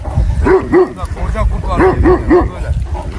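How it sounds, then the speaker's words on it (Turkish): A flock guard dog barks in short bursts of two or three, loud and close, with people talking in between and around the barks. "Köpek gelmiş."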